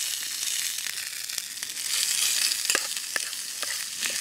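Grease sizzling and spitting in a titanium pan over an alcohol camp stove, a continuous bright crackle with scattered sharper pops, moderately loud and close, no voices.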